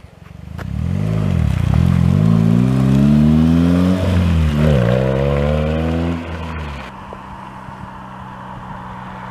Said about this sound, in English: Alright, so what kind of drive-by you want me to do?